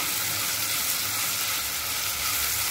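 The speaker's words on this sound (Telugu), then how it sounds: "కొంచెం బ్రౌన్ కలర్ వచ్చే వరకు ఫ్రై చేయాలి." Food fries in a pan until browning, making a steady, loud, close sizzle that fills the whole moment with an even crackling hiss.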